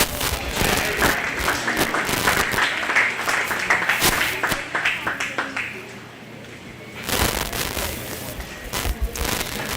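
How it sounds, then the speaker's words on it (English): A county fair crowd applauds pig show winners in the livestock ring, loud crackling claps that thin out midway, then swell again near the end, with a voice briefly heard. "Please give them a round of applause."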